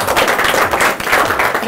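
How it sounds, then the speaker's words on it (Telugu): A live audience at a cooking show claps loudly to welcome a guest, a dense, energetic round of applause filling the whole moment with no talking over it. "ఒకసారి గట్టిగా చప్పట్లు వీరికి స్వాగతం"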